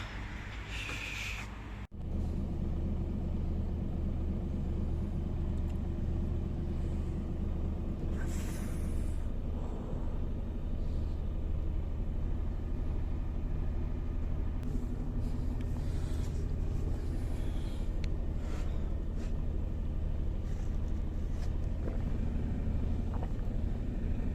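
A Mercedes-Benz Actros truck pulls away, its engine a steady, loud low rumble that holds constant after a brief dropout near the start, with faint higher clatter over the drone and no talk.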